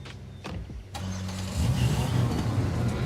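In the video game Nikke, a car's engine starts after a few clicks and thumps, then settles into a steady mid-pitched idle that grows slightly louder.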